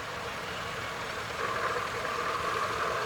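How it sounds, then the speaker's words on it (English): Turbocharged International 955 tractor engine at a steam rally, a steady dense roar with continuous whine and rumble, close and loud, with no pauses. "Turbocharged engine on this one."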